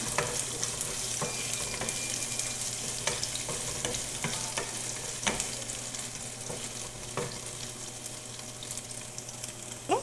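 Ginger-garlic paste fries in a little oil with a steady close sizzle, broken by repeated scraping stirs of a spoon in the pan across the whole stretch, with no voices.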